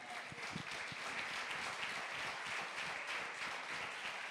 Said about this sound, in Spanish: Alguien que le dé un aplauso al Señor, amén.